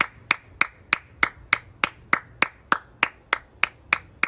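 Priyanka Chopra claps on her balcony for frontline workers: a steady run of about fourteen sharp, evenly spaced single claps, crisp and close, with no voices.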